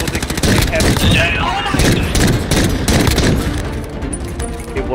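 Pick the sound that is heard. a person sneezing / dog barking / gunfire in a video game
gunfire in a video game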